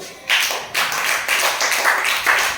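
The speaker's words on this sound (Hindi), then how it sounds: "ताली बजा दो" A small group claps steadily for a couple of seconds, bright and close, with no talking.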